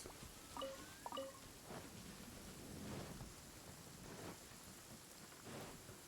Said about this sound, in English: Ooh, the sound of thunder.